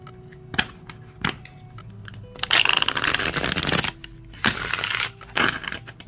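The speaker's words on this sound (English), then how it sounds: "So I'm going to shuffle these for you guys." A deck of oracle cards being shuffled by hand: a few sharp taps, then two bursts of riffling and a shorter third, close and crisp with no talking.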